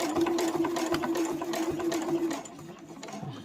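A sewing machine back stitches a mini boxed fabric pouch, a fast steady whirring chatter close by that stops abruptly after a couple of seconds, leaving faint handling sounds.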